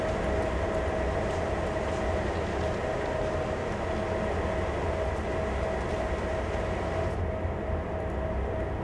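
Locomotive rumbling steadily in the Train Sim World 2020 simulator during a terminal switching run, a continuous loud engine drone with a sustained tonal hum, fairly even throughout with no speech.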